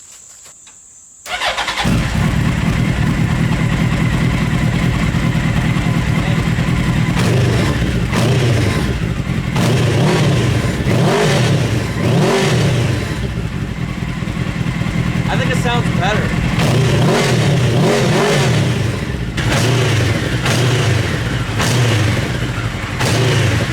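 A mini trophy truck's engine, its exhaust baffle removed, starts after a brief silence and then runs loud and steady with repeated revs rising and falling, with voices talking over it at times.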